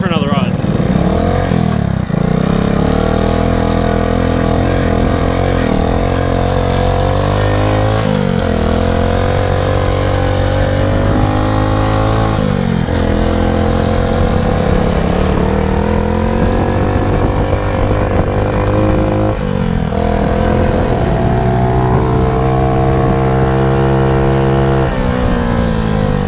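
Honda ATC 110 three-wheeler trike engine running during a ride, a loud buzzy single-cylinder drone rising and falling with throttle and gear changes throughout, close and continuous.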